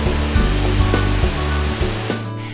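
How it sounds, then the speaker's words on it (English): Tung Na Mueng Waterfall pours in a loud, constant rushing roar, with water crashing in a steady wash and periodic surging swells. "Tung Na Mueng Waterfall is a beautiful waterfall"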